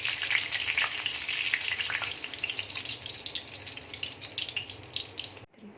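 Poha and green chillies fry in hot oil, giving a strong, continuous crackling sizzle that stays close and loud, eases slightly over time and cuts off abruptly at the end.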